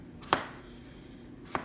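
A knife chops potatoes on a cutting board with two sharp, separate knocks about a second apart in a quiet kitchen.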